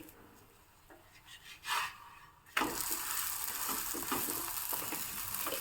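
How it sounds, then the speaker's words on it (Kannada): Methi paratha frying in generous ghee on a hot pan in a home kitchen, giving a steady, close sizzle that jumps louder partway through and then holds, with no talking. "ಪರಾಟಕ್ಕೆಲ್ಲ ತುಪ್ಪವನ್ನು ಸ್ವಲ್ಪ ಧಾರಾಳವಾಗಿ ಹಾಕಬೇಕಾಗತ್ತೆ ಈಗ ಇದು ಬೇಯ್ತಾ ಇರಲಿ"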